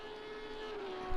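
BMW GT3 race car in a sim racing game, engine holding a steady high-pitched whine down a straight, brief and fairly faint with a constant tone and no speech.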